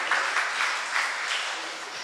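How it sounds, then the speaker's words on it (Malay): An audience applauds steadily and fairly loudly throughout, a dense wash of many hands clapping at once with no gaps or voices over it. "Baik, berikan tepukan."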